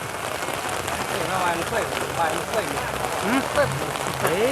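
Rain falls steadily at an outdoor buffalo market in Roi Et, Thailand, a constant hiss of drops with faint scattered calls and movement in the background.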